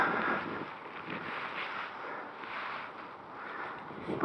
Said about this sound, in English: bit of a windy day